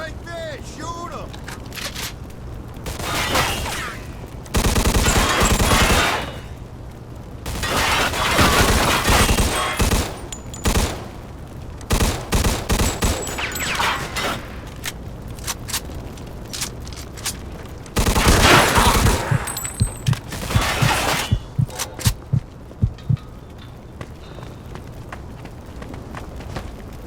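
Bursts of automatic gunfire and shooting in the video game Mafia 2, loud rapid fusillades in several long volleys with single shots between, close up, with a voice talking at times.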